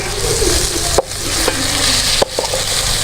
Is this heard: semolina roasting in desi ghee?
yes